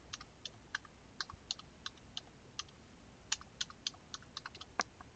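Typing on a computer keyboard while entering a credit card number, a quick irregular run of crisp key clicks, close but quiet, with no talk.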